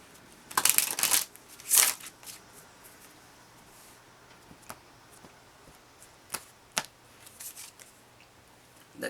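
Lenormand cards are shuffled close up in a few crisp riffling bursts near the start, followed by scattered soft taps and card handling in a quiet room.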